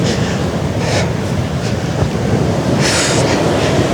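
Ocean waves breaking at a cold, windy coast near an old lighthouse during a storm, a steady loud roar of surf with bursts of spray and wind buffeting the microphone, no voices.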